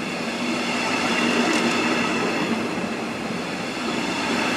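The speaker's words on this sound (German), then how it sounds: "Mit der RB6 geht es jetzt nach Mühldorf." Steady, loud rumble of the RB6 regional train heading to Mühldorf am Inn, a continuous rolling drone with a faint tonal whine, heard from on board.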